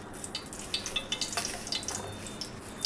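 Tempering spices crackle and pop in hot ghee for tomato dal: a soft, steady sizzle dotted with quick sharp spits and crackles, close and fairly quiet, with no talking.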